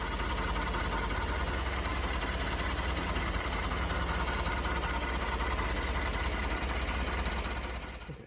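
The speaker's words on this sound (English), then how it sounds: "I'll do a before and after with the lifter noise and see if that gets better" A high-mileage Ford EcoBoost engine with about 233,000 miles idles with lifter noise, a steady, dense mechanical clatter heard up close without a break until it fades slightly at the end.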